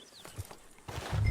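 Horse hooves clip-clop in the video game Red Dead Redemption 2, a few close, uneven thuds at a walking pace, with the background growing louder toward the end.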